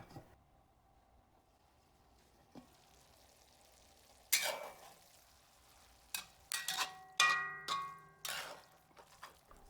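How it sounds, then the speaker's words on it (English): Cooked chicken and ham are stirred in a hot cast iron pan, a faint sizzle under sharp scraping and clanking strokes of a utensil that come in quick bursts in the second half. "we mix in cooked chicken and cooked ham. And we mix it together and stir fry until it's good and hot."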